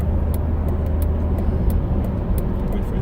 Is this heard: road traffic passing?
yes